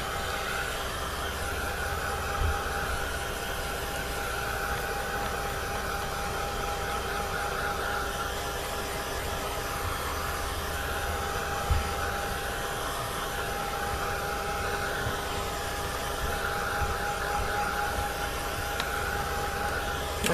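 A hair dryer blows steadily at close range, drying a junk journal page with a constant whooshing hum that holds from start to finish without pause.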